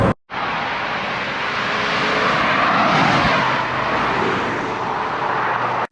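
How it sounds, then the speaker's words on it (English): A Lotus Europa S on the move, with steady road and tyre roar and wind rush filling the cabin and swelling slightly midway, no talk over it. "There's a fair bit of road noise and tyre noise and wind noise, but it's not bad, not at all."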